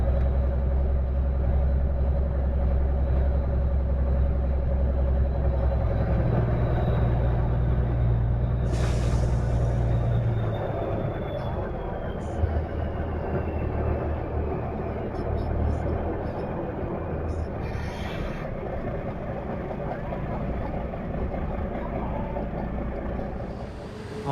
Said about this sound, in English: I'll park the truck over there under them pine trees.